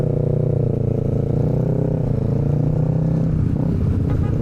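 A carbureted Kawasaki Ninja motorcycle idles steadily nearby, its throbbing engine note wavering slightly in pitch throughout without any talk.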